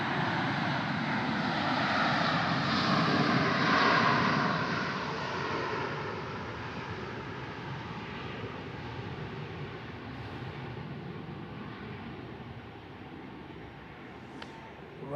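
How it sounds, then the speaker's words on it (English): An Emirates airliner being pushed back at San Francisco International Airport, a broad steady engine roar that swells early then settles into a continuous, fairly distant drone with no talk. "It seems like Emirates is being pushed back at the moment."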